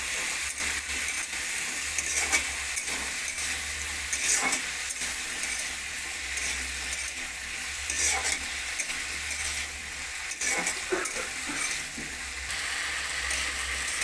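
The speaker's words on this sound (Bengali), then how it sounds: "নুন হলুদ দিয়ে আলুটাকে আমি ভেজে নেব" Potatoes fry in hot oil with salt and turmeric, a constant close sizzle broken every few seconds by the scrape and clatter of stirring.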